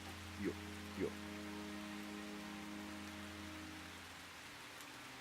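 Steady rain falls on stone in the video game Calvino Noir, making an even, hissing wash throughout. Two brief soft knocks come near the start, and a low hum sits beneath the rain.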